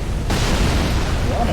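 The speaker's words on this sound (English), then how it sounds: "Is this ballista gonna shoot at me? It is." A ballista in Dark Souls III fires at the player in Anor Londo, a sudden loud boom that swells into a sustained roaring rumble lasting over a second.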